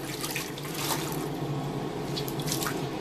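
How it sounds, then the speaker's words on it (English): Tap water running into a sink while a washcloth is rinsed under it, giving a close, continuous splashing rush with a few brief louder splashes. "So I'm just going to rinse out my washcloth real quick."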